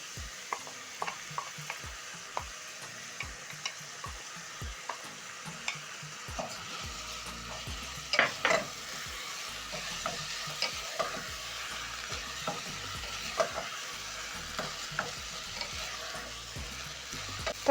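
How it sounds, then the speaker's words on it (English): Carrots sauté in a pot with a soft continuous sizzle, while a utensil scrapes and stirs in regular, close strokes. "Saute the carrots for around 30 seconds while stirring frequently."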